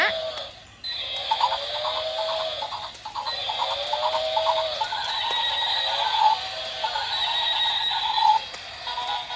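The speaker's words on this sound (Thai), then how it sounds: "ม้า" A horse neighing in a children's animal cartoon, repeated whinnies over a steady background hum, fairly close and clear with no talk.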